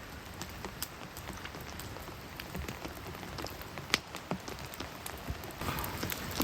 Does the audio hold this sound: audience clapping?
no